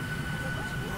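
Steady, dense cabin drone of a passenger airplane, heard from inside on a rainy day, with a thin high whine riding over a broad rumbling roar that stays even throughout the short stretch.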